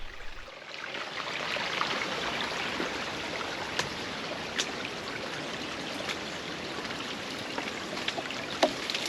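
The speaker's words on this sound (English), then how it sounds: "After a long search, we finally found the most epic waterfall" A waterfall near Port Renfrew pours with a steady, broad rush of water that stays constant throughout, moderately loud, with a few faint clicks and knocks nearby.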